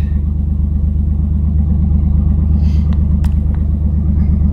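A 1992 Chevrolet S10 Blazer engine runs smoothly at a steady idle, a loud close low rumble with an even, regular pulse and a few faint clicks in the background.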